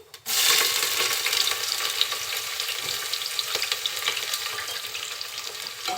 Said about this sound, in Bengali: তেলের ভিতরে দিয়ে দিচ্ছি 2টি তেজপাতা আর কিছু গোটা গরম মশলা, আরও দিচ্ছি পেঁয়াজ কুচি।